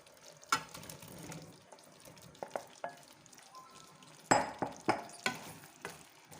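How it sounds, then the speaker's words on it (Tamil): Fried bread balls are stirred into a thick Manchurian sauce in a pan: wet squelching turns and sharp spatula knocks against the pan, close and fairly quiet, with a faint sizzle beneath. "இப்போ நம்ம ஃப்ரை பண்ணி வச்சுருக்க பிரெட் பால் இதில் ஆட் பண்ணிக்கலாம்."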